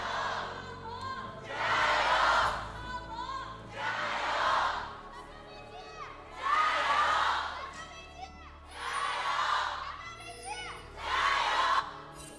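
A large esports crowd at an LPL League of Legends match in Shanghai cheers and roars in repeated loud surges, swelling and falling about every two seconds.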